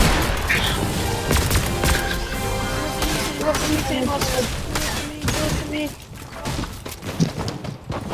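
Video game gunfire crackles in rapid bursts throughout, loud and close, mixed with game sound effects.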